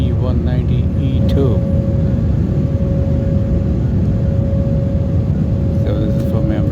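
Steady loud cabin roar inside an Embraer E190-E2 airliner landing over Johor, Malaysia, with a constant whine running through the engine noise.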